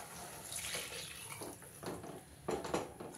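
Water pours into a tomato curry in a pot, a quiet gushing and splashing that comes in uneven bursts close by.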